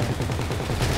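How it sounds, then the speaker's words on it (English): Gunfire in GTA V gameplay, a rapid burst of shots running continuously through the moment, loud and close, with no voices over it. "Connie, you realize we're getting shot at, right?"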